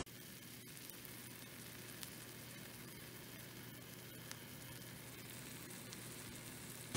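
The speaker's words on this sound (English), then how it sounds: "and it looks like it's frying." Cornbread batter frying in hot grease in a skillet, a steady close sizzle and crackle of oil running alone without pause.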